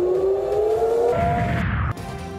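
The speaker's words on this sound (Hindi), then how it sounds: "तेल अबीब में सायरन बज उठे" An air raid siren wails in Tel Aviv during a missile attack, a loud sustained rising tone that fills the clip, with a rumbling low boom beneath it before it drops off abruptly near the end.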